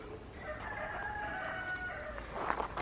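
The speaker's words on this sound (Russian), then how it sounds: "Петухи кричат." Roosters in the Russian provincial town of Tarusa crow in long, drawn-out calls that overlap one another, heard at a moderate distance over a steady outdoor background hum.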